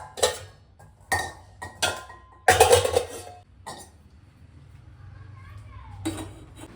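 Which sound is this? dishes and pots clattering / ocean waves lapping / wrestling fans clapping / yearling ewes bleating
dishes and pots clattering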